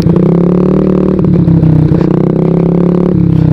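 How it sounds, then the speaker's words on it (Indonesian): A carbureted Honda Beat scooter with an aftermarket exhaust revs steadily and loudly up close, a continuous droning engine note that rises and dips slightly over a few seconds, with no talking. "karena yang kemarin cempreng banget tuh knalpot, sekarang agak bulat suaranya"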